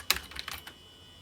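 Half a second of crisp, rapid keystrokes clatters on an aging iMac G3 keyboard as numbers are typed, then quiet room hum.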